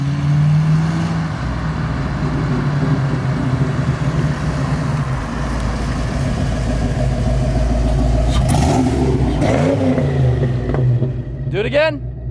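A Foxbody Mustang V8 running open headers revs loudly up close, with a steady rough idle building into throaty rev swells, while people talk over the engine noise.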